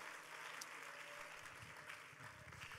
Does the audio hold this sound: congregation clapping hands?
yes